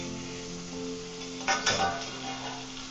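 Onion sizzles softly in a pan with a low steady hum, and a brief scrape of stirring comes partway through. No one speaks.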